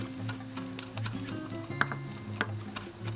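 Okra frying in a pan for fried okra, in a home kitchen cooking from the garden harvest: soft, steady sizzling with faint clicks and clatter, and no talking.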